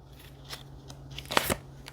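A tarot card is drawn and shuffled out of the deck: soft papery rustling that builds to a sharper crisp slide and snap near the end, close and quiet, with no talking.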